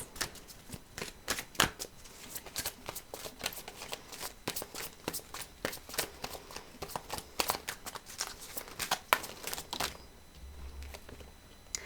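Tarot cards riffled and slapped down in a run of sharp, close papery snaps and flutters, dense and irregular, with a quick burst of shuffling near the start and softer handling toward the end.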